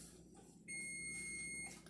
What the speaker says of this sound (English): I'm going to take the nachos out of the oven because it is beeping at me